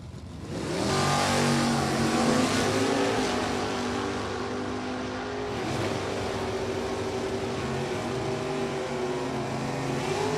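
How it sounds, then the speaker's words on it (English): A Chevrolet Vega drag car in NHRA Super Gas racing roars off the line and holds a loud, sustained engine drone through a run of about ten seconds, easing slightly midway before pulling hard again. "Burkett in the Chevrolet Vega."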